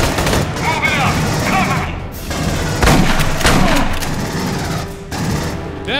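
Smart gun firing in the video game Aliens: Colonial Marines, loud rapid bursts of automatic gunfire with heavy booming impacts and in-game effects, a voice talking briefly over the shooting.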